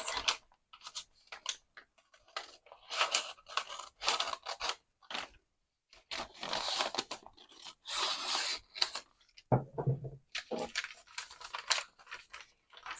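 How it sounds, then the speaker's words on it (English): Scissors snip and slide through paper along a fold crease in a series of close, crisp cuts, with short pauses between strokes and a brief rustle of handled paper. "And then I'll just run my scissors down that crease."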